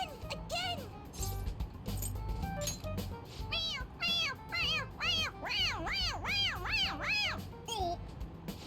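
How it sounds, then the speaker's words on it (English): A toy cat in Persona 5 Royal meows repeatedly in short electronic bursts when pressed on the head, rising and falling, growing quicker and more insistent toward the end, with faint voices underneath. "It meows when you press on its head"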